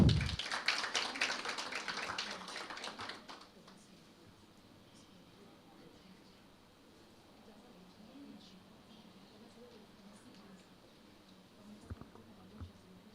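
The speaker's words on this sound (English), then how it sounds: "Let's clap for Omi" Audience at an activism event against gender-based violence claps in a short, dense burst that fades out after about three seconds. Quiet room tone follows, with faint murmuring and a soft knock near the end.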